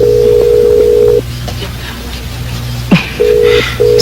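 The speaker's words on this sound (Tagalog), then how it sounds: "Sige malabagting na cellphone sa babaeng misayaw sa stag party ni Joe Gibson." A cellphone ringtone rings as a repeating electronic tone in short bursts, with a pause in the middle, over a steady low hum and some background noise in a drama scene.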